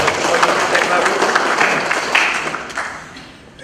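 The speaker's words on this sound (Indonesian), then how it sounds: "Boleh tepuk tangan." An audience at an installation ceremony for a regional Indonesian motor association in Rote Ndao applauds in a dense burst of clapping that swells, holds, then gradually tapers off.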